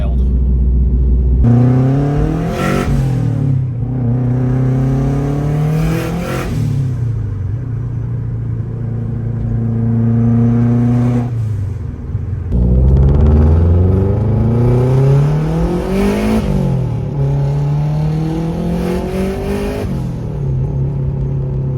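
A 500+ horsepower Subaru Forester XT with a loud aftermarket exhaust revs hard in repeated rising and falling bursts over a deep rumbling idle, close and loud throughout.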